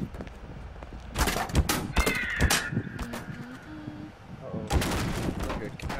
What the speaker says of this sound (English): Like a cat sound